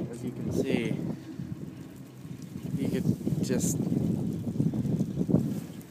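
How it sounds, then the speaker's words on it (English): Wind blowing during a chairlift ride, a steady rumbling buffet against the microphone that swells and fades, heard under someone speaking. "It's a bit windy."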